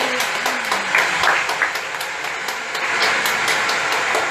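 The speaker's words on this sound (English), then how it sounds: "Clap for Jesus." Congregation at a church service clapping for Jesus, steady dense hand claps from a crowd filling the space, with faint voices and some rhythmic pulsing under the clapping.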